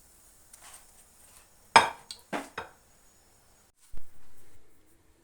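Fried lavash börek lifted from a pan onto a plate, heard as a few distinct clinks and scrapes of utensil on cookware in an otherwise quiet kitchen, followed by a short softer thud.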